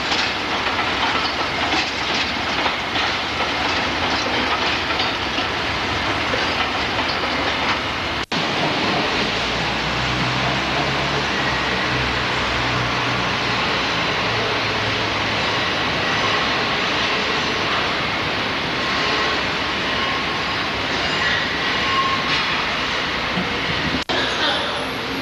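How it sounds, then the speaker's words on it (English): A suburban train rumbles past close by at Liverpool Street station, London, in 1985, with a broad roar and rattling, steady throughout, briefly interrupted by sharp cuts, no clear voices. "Suburban train."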